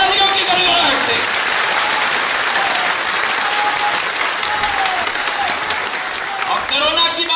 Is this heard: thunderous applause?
yes